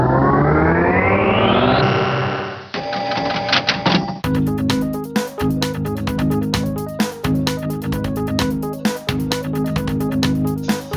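Electronic remix beat made in FL Studio for a Pinball 3D song, opening with a falling synth sweep, then a loud, dense, rhythmic loop of clicky, register-like percussive hits and tones, with no talk.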